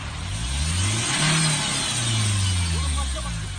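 A car engine turns over and revs repeatedly, the pitch climbing and dropping in several surges, loud and close.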